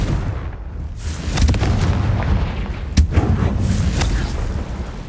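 A blasting spell explodes in a wizarding video game: a deep rumbling boom with heavy low-end crackle, a sharp burst near the middle, and a sustained roar of debris and effects.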